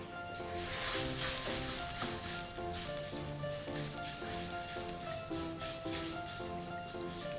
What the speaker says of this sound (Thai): เคี่ยวกะทิกับพริกแกงนะคะให้แตกมันเล็กน้อยค่ะ